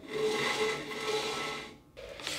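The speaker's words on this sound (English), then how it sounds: "when I'm sanding on the disc, I always want to sand on the side that's going down." A belt and disc sander in a wood shop grinds wood against the spinning disc, a steady close rasping whine with a brief dip before the abrasive hiss resumes.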